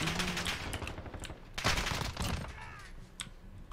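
Rapid bursts of gunfire from the CR-56 AMAX assault rifle in Modern Warfare, sharp cracks over a busy game soundscape with no talking.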